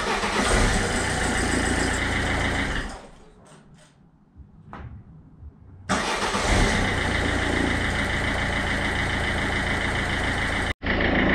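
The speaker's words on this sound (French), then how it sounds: "Sans surprise, ça démarre au quart" Peugeot Citroën 1.4 HDi diesel engine running loudly, cutting off to a near-silent pause with a few faint clicks, then catching instantly on the new starter and settling into a steady, close idle.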